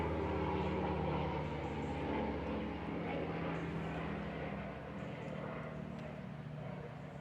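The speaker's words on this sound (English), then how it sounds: "And now I've got an aeroplane coming over as well." Aeroplane passing overhead above woodland, a steady broad engine drone that holds for several seconds and eases slightly toward the end.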